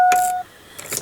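A 2002 1500 pickup truck's warning dinger sounds as a short electronic tone that cuts off, followed by a few faint clicks and rustles nearby.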